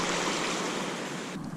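Sea waves wash onto a Sea of Japan beach in Kyoto during shore fishing, a loud, continuous rushing surge that eases slightly at the end.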